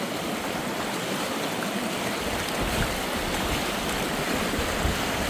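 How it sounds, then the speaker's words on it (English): Strong, rushing river current during a nighttime crossing, a dense, steady roar of churning water filling the space close by, with no talk over it. "Nighttime river crossing. Let's go. Our current's fucking strong."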